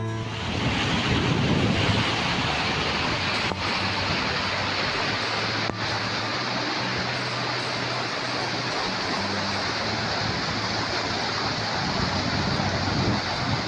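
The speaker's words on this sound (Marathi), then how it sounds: "दगडांना भेदत वाहणाऱ्या पाण्याचा आस्वाद घेत फोटो व व्हिडिओ काढण्याचा लाभ घेऊ शकतो" Malaprabha river water rushing over rocks near Asoga village, Khanapur, Belagavi: a steady, loud, broadband roar that runs unbroken throughout, with no voices.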